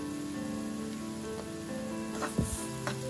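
Onions, green chillies and curry leaves sizzle steadily in a hot pan, a continuous close crackle with a couple of sharper pops near the end and no talking.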